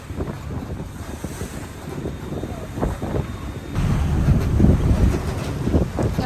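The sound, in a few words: strong wind blowing on a sailboat at sea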